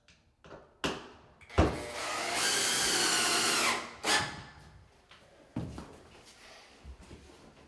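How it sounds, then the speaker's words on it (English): A power drill runs in one sustained burst as it drives a screw into a wall stud during wall tile prep, with a few clunks and handling knocks before and after. "Just going to run this screw into the stud."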